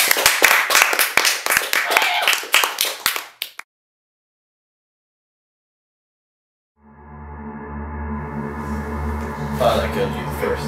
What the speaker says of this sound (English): Everybody, let's give a warm round of applause once again for Franklin Delano Roosevelt